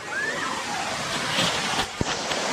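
Kondi waterfall near Alibag pours and splashes as a steady broadband rush of water, with a small splash or knock standing out near the end.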